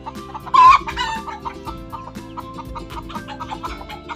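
Newly bought pet chicks in a backyard give a run of repeated high peeping calls, loud and close at first, then softer chirps continuing steadily.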